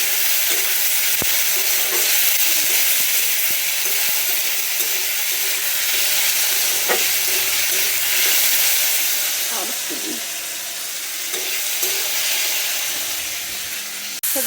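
Spiced meat with turmeric, chili and salt frying in a pan, with a loud continuous sizzle and hiss and occasional stirring scrapes underneath.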